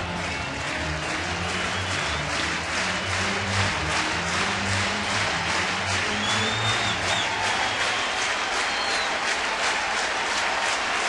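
Loud, sustained roar of a baseball stadium crowd cheering during a Cubs at Cardinals game, steady broadband noise with scattered claps and whistles throughout, no talk over it.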